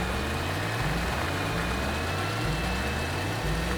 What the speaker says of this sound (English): Go get in our tractor,